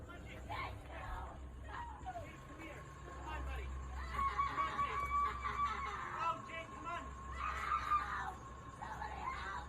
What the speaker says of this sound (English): A woman inside the van is heard screaming as hard as she can